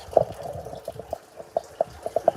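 A pot of Caribbean food bubbling as it cooks, with soft wet pops and plops coming at an irregular pace, close and fairly quiet, and no voices over it.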